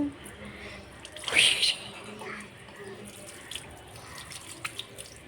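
Water splashes as it is poured over a small child at bath time, with a short burst of pouring followed by scattered drips and trickles while an adult speaks softly nearby.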